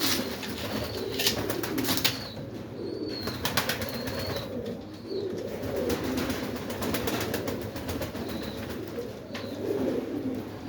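Pigeons coo repeatedly in a loft or coop, soft low throaty calls overlapping at close range over a steady background murmur.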